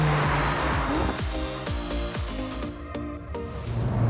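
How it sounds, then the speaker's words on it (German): A McLaren 600LT sports car driven hard in sport mode, its engine note rising and dropping through rapid gear changes with a steady, loud, rasping roar throughout. "Mit beherztem Gasfuß und im Sportmodus verwandelt sich der 600 LT zu einem kompromisslosen und brettharten Rennfahrzeug"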